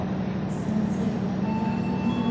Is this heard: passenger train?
yes